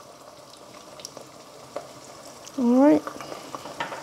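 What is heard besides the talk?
onions frying with salt in pan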